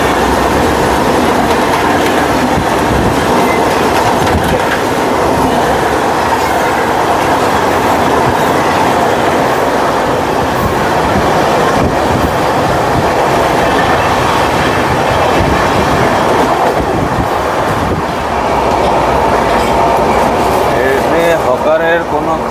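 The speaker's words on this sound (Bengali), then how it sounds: "যথেষ্ট স্পিডে এখন ট্রেন চলছে, ভালো স্পিড নিয়ে।" A passenger train running at high speed on an Indian line out of Shalimar, with a steady loud rumble and rattle of wheels on track throughout, the carriage noise continuous and close.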